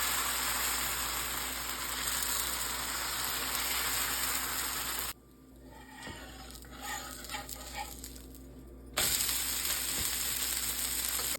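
Sago (sabudana) dosa batter seasoned with salt and cumin sizzles steadily on a hot pan, a bright crackling hiss that drops away for a few seconds mid-way before returning at full strength.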